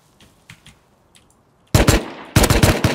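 A video game firefight opens with a few faint distant pops, then switches to two loud, close bursts of rapid automatic gunfire, each a dense rattling volley.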